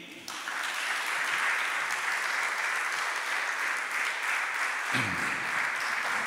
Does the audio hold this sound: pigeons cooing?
no